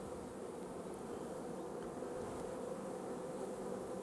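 Honeybees buzz in a dense, steady drone as a queen is released into a package of bees being installed in a hive, a continuous, fairly soft swarm hum with no talking.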